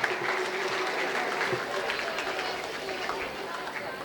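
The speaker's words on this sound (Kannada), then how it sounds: "ವಿದ್ಯಾರ್ಥಿಗಳು ಒಂದು ಒಳ್ಳೆ ಕೈ ಚಪ್ಪಾಳೆಗಳನ್ನು ತಟ್ಟಿ ಅವರನ್ನು ಅಭಿನಂದಿಸಬೇಕಾಗಿದೆ." Students at St Aloysius High School applaud a former student and art club member, a steady, dense roomful of clapping that holds evenly throughout, with faint crowd murmur underneath.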